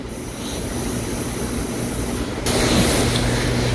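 Subway train running in Korea, a continuous loud rumble and rushing roar from inside the car with faint tonal hum, growing louder partway through, no talk.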